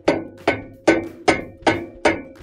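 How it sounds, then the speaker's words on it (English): Six sharp, evenly spaced hammer strikes on an adapter tightening a washing machine tub bearing part, each a loud metallic knock with a short ringing decay. "We're going to get our adapter and our hammer again. And now we're just going to tighten this up nice and tight."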